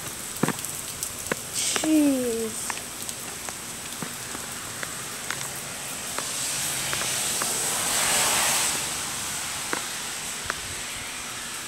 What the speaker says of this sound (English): Dude, this rain is insane.